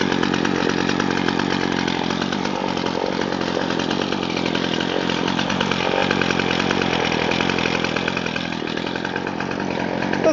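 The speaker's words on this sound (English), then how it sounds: "There's a cold start of the Craftsman." A Craftsman weed whacker with a dual line head runs after a cold start, its small engine holding a loud, steady, buzzing drone up close throughout.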